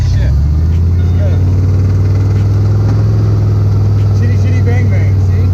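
A turbo nitrous rat rod with a V8 and a 350 automatic idles close and loud, a deep steady rumble with slight lope, while someone talks over it.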